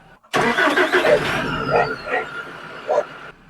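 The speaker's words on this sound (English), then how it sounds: "I started the tractor up, it runs." An LS tractor engine cranks and catches, then runs unevenly with a few revs and sputters, recorded close by.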